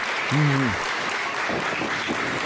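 A wrestling crowd applauds at an opening match between two technicos, a steady wash of clapping that runs throughout, with a brief voice early on.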